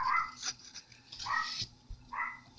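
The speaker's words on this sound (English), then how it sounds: "They're barking because the leaves on the trees are moving because we have wind." Dogs bark repeatedly nearby, sharp yappy barks in short bursts with brief pauses between them.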